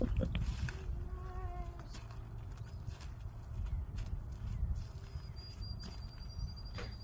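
A wild mustang's hooves clip-clop and shuffle on the ground at close range, with a few faint whistled tones and background noise, and no one speaking.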